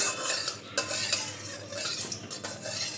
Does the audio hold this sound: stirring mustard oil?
yes